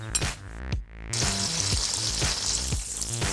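Okra sizzles steadily as it fries in a pan, with a continuous bright crackle that starts after a brief pause, over tonal background music.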